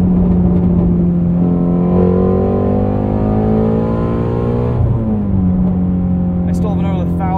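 A 2020 Ford Mustang Shelby GT350R engine revs hard and climbs in pitch through the gears, loud and close, with a brief dip at a shift around 7,200 RPM before rising again.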